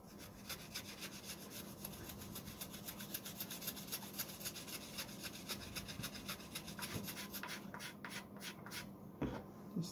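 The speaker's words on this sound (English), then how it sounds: "so I can shape it up a little bit with the planer" A hand planer works a laminated wooden block with a steady run of quick rasping strokes, fairly faint and close, continuing evenly throughout.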